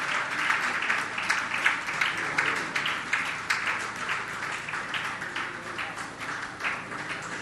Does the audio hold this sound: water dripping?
no